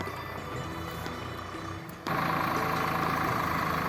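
A tractor engine runs steadily in a field, ploughing farmland, with a continuous droning rumble that jumps abruptly louder partway through and then holds.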